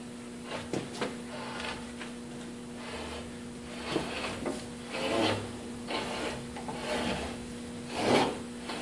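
Metal stock being rolled through a homemade bender worked by a pipe wrench, giving repeated raspy scraping and rubbing strokes with short grinding swells, close and fairly quiet, with no talking.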